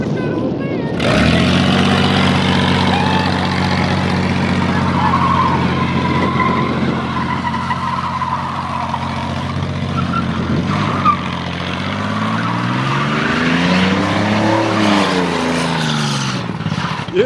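A 1985 Mercury Marquis with an LS swap engine roars loudly, revving hard with long tire squeals and a rising and falling engine pitch, close up, with voices shouting and cheering over it.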